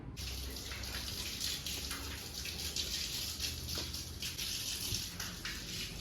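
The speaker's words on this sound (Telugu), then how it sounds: "వాటర్ కొడితే చూడండి నల్లగా వస్తుందో" Water spray hitting a dirty air conditioner filter during a cleaning job in Hyderabad makes a continuous close hiss and splatter, steady throughout with slight surges and no voices.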